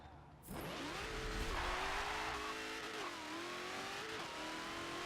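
A 2018 Dodge Demon launches from a brake-boosted start in Forza Motorsport 7, its engine surging loud and close into a sustained high roar as revs climb, with a brief tire squeal and the pitch stepping through gear changes.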